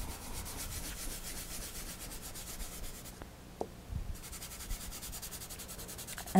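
Glitter is rubbed by hand into a glue-stamped card design, making a steady, close, soft scratchy rubbing that pauses briefly midway and then resumes.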